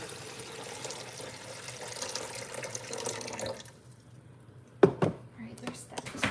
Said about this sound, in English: my coffee machine ran out of water, so gotta fill it back up